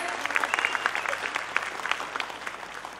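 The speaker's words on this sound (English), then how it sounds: "let's shake the roof with your claps" Steady crowd clapping fills a hall at a preschool annual day event, dense overlapping claps throughout, with faint voices underneath.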